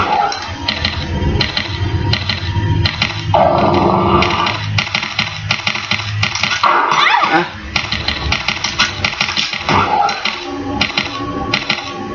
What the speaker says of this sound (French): Ils sont chiants ces chiens, c'est horrible.